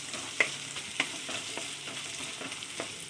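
Coconut frying in a pan for a milk payesh, with a steady, gentle sizzle and occasional sharper crackles and stirring scrapes, close by and alone without talk.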